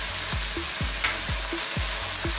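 Sweet and sour shrimp sauce sizzles in a pan while a utensil stirs it in a quick, regular rhythm of scraping strokes, close and steady with no talk.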